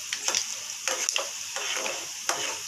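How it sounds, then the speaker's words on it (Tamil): Chana dal and fenugreek fry in a pan with a constant close sizzle, while a utensil stirs in quick, repeated scraping strokes, with no talking. "கடலைப்பருப்பு போட்டாச்சு கடலைப்பருப்பு நல்லா ஃப்ரையாக வரும்"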